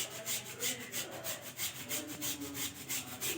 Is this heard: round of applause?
no